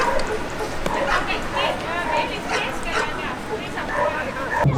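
Several dogs bark and yip amid crowd chatter at a dog sports competition venue in a team setting, barks scattered and fairly close over a steady murmur of voices throughout.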